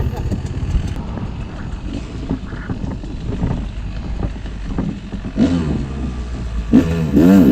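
A two-stroke enduro dirt bike, a Yamaha YZ250X or Beta 300RR, putters slowly along a small side road during wheelie practice under heavy wind buffeting. The engine revs up sharply twice near the end, and a rider talks over it.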